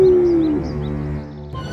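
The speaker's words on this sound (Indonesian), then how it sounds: "Serigala melolong dengan suaranya" A cartoon wolf howls in one long, steady, tonal cry that slowly slides downward and holds, loud and clear with no other sounds.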